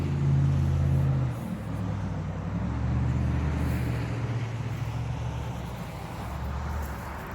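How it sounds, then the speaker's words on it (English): Steady, loud traffic roar from busy Sudley Road near the Manassas battlefield, with cars and heavier vehicles passing continuously close by and a low rumbling bed throughout, no talking. "You can probably hear the traffic."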